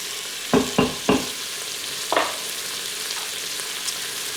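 Vegetables with a pinch of salt sauté in an Instant Pot, a soft steady sizzle broken by three quick stirring clacks and a later scrape of a utensil against the pot.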